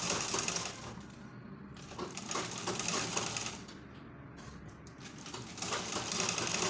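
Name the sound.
sewing machine stitching a straight skirt slit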